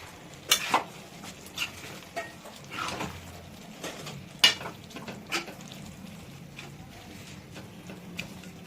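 Fish head and cabbage curry with sprouted garlic is stirred in a pan over a high flame, producing a low bubbling sizzle with scattered scraping and clinking of the spatula, no talking.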